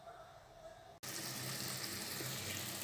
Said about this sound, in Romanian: Deci, siropul fierbe